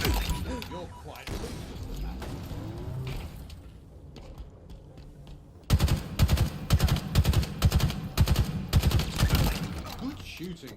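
Gunfire in Halo Infinite ranked sniper multiplayer: scattered shots and mechanical clicks at first, then a loud run of sharp, repeated reports in the second half.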